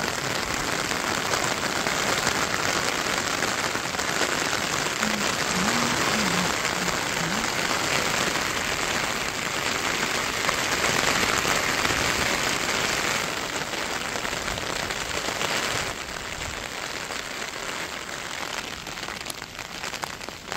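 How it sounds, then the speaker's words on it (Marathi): Steady, heavy rain pours on a surface in a dense continuous patter, easing slightly toward the end, with no voices. "पाऊस कमी होतोय परत वाढतोय."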